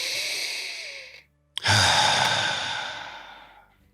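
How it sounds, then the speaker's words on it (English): A deliberate deep breath: a long airy exhale, a short pause of silence, then a sharp inhale swelling into another long sigh-like breath out, close and alone. "let's just take a breath here"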